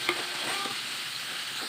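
Sautéed bitter gourd (ampalaya) being stirred in a pan, with a faint sizzle and a few light clinks and scrapes of the spoon at the start, no voices.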